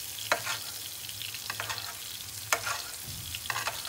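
A steak fries in a pan, with a constant soft sizzle and a few sharp clicks and crackles spaced through it, heard close with no talking.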